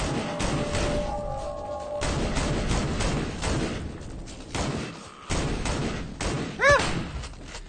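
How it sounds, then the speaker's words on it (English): Shotgun blasts in a video game, a series of heavy thumping shots at irregular intervals, loud and close, with other game sounds between them. "Panic shotgun attack."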